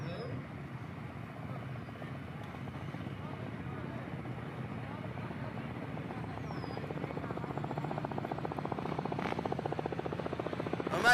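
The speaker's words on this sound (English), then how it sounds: "We got a helicopter buzzing around, getting a live feed." A helicopter circles over a motorcycle and ATV off-road race at a motocross track in Preston, Idaho, its steady rotor drone and rumble continuous throughout and swelling slightly louder toward the end.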